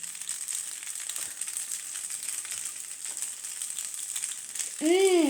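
Ordinary white pasta being stirred in a pan, a soft continuous sizzling and scraping hiss at low level, ending with a brief tonal chirp.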